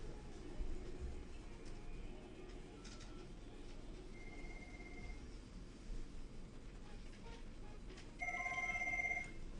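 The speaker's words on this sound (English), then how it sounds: "You can hear the other phone ringing." A Cisco 7940 IP desk phone rings in the background of an office, its electronic tone repeating faintly under low room noise, then growing louder and clearer near the end.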